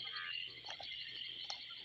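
Two kinds of frogs calling during rain in The Gambia, a steady high chorus of peeper-like trills with a few louder, lower croaks from a bigger frog standing out briefly against it.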